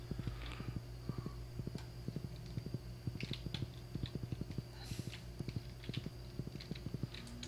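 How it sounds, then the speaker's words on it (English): Horse hooves clip-clop steadily in the Stardew Valley video game, a quick, even run of crisp hoof taps at close range over a constant background hum. "I think I might have to get off the horse for this"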